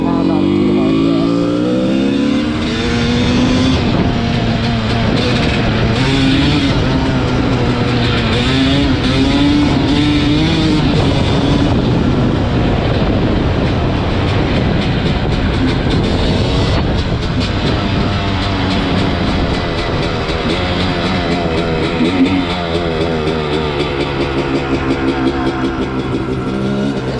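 A Honda CR250 two-stroke dirt bike with a new flywheel weight is ridden close-up, its engine revving and shifting continuously with a rising, buzzing note and wind noise, a voice talking over it.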